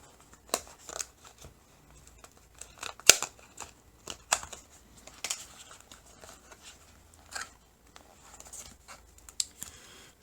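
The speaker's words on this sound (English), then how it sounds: "let me slice this little tape" Tape on a small gadget box is sliced and the package opened, with scattered short crinkling, scraping and tearing sounds at close range and quiet pauses between them.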